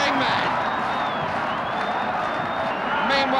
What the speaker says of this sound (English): Listen to the crowd going mad.